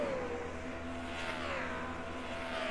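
Cars in a race field stream past in single file, their engines swelling and dopplering down as each one passes, a continuous moderate roar without voices.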